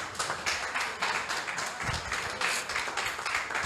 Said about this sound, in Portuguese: Eu quero que você aplaude a Jesus bem forte.